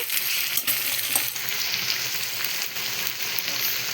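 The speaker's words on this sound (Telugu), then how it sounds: "అల్లం పేస్ట్ పచ్చివాసన పోయేంత వరకు ఫ్రై చేసుకున్నాక" Ginger paste fries in a pan for lunchbox curries, giving a steady, close sizzle with bright crackle throughout and a few soft stirring knocks, no voices.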